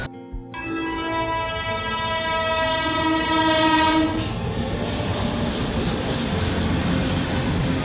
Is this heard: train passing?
yes